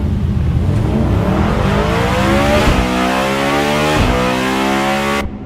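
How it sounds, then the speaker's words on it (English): A Bugatti sports car engine revs hard and climbs in pitch, shifting gears twice and roaring on, loud and close throughout. "Bugatti have released a short clip of the sound of the engine"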